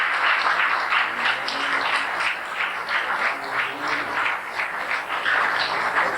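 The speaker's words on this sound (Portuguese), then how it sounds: "Vamos aplaudir a Deus" A church congregation applauds God during a Portuguese-language service, a sustained wash of many hands clapping at moderate volume, with no voices over it.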